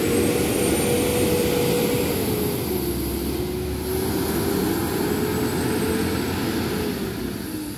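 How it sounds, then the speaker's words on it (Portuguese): A steady, loud Mercedes bus engine drone with a low rumble and a sustained tonal hum that slowly shifts in pitch, heard without any talking, at Brasília's interstate bus station. "Ronco do motor. Motor Mercedes."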